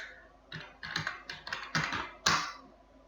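Computer keyboard typing while a word is entered into an Excel VBA word game: about seven crisp key presses in an uneven rhythm, close and clear, with no talking.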